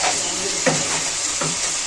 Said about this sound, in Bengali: টমেটোটা দিয়ে এবার ভেজে নেবো। পেঁয়াজ, আদা, রসুন, টমেটো একসাথে ভালো করে।